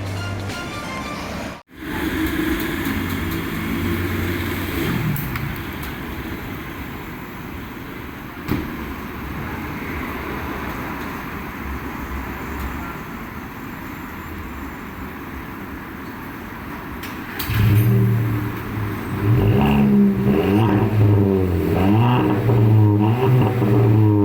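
Volkswagen Polo 1.2 TSI fitted with twin exhaust pipes after a muffler and resonator delete, a steady engine drone running throughout and swelling into a louder, fuller rumble with rising rev sweeps in the last few seconds.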